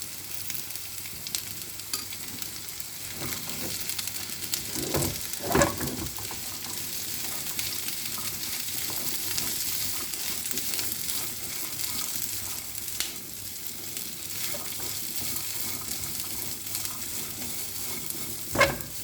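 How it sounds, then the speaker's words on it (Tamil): Peanut pongal is stirred in a pot, a continuous soft bubbling sizzle with scraping strokes of a spoon and a few louder knocks against the vessel, heard alone and close. "நல்லா கிண்டி விட்டுருங்க."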